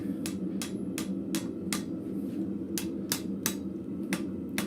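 A blacksmith hammers scrap metal on an anvil at a forge, bending a bar with sharp, ringing blows in an irregular rhythm, about ten strikes over a steady background hum, close and loud, with no talk.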